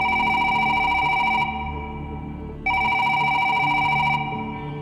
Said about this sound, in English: And then the phone rang.